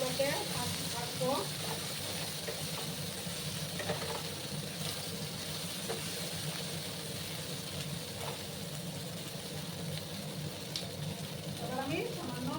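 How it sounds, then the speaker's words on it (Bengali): Sliced okra (bhindi) fries in a pan with a steady, soft sizzle that continues throughout, broken by occasional stirring scrapes. "আর একটু সময় আমি ভেন্ডিগুলোকে ভাজবো।"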